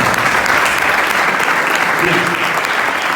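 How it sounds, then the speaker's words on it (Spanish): Church congregation applauding, steady dense clapping filling the room throughout, loud and continuous with faint voices mixed in. "Vamos a dar un aplauso a la palabra de Dios"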